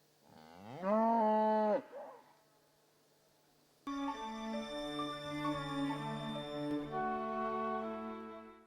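Cows on a farm in the Haut-Rhin region of France mooing: one long, loud, rising low moo, a few seconds of quiet, then a fuller, sustained lowing that carries on to the end without any talk.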